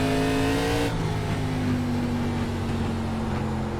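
ARCA Menards Series race car engine in the iRacing game at Langley Speedway, a steady loud drone at high revs that holds the whole time with a slight pitch drop near the start, with no talk.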